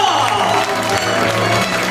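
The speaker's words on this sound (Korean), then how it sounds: "여러분 박수 함성 한번 부탁드립니다" An audience claps and cheers at a city council member's 2024 report event, a dense, steady round of applause with some voice mixed in.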